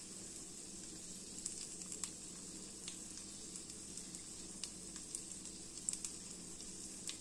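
Steady, faint sizzling of pear pancakes frying in hot oil, with soft crackles and occasional small pops, no voices.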